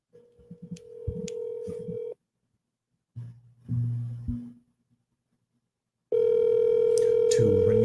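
A telephone being used to call someone produces bursts of dialing tones, a silent gap, another short tone burst, then a loud continuous dial tone. Each tone is clear, steady and alone, with no voices.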